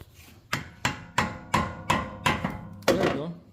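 Hammer striking while prying out a part on a 2022 Honda Civic under repair, seven sharp metallic blows in a steady rhythm, close and loud, each ringing briefly.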